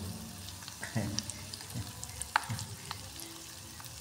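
Dried fish (tuyo) fries in hot oil in a home kitchen, giving a soft, steady sizzle with occasional clinks and stirring sounds, faint and close.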